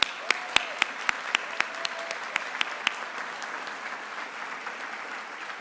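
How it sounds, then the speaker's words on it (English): An audience applauds graduates at a university School of Education spring hooding ceremony: a broad wash of crowd clapping, with a few sharp close claps standing out early and a faint voice beneath. "please, one more round of applause"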